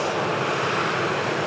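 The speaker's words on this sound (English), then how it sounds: "Another flight coming in from Palma de Mallorca for the Balearic Islands." A Jet2 Airbus A321 on arrival from Palma de Mallorca: a steady, broad engine roar that holds at an even, fairly loud level throughout, with no talking.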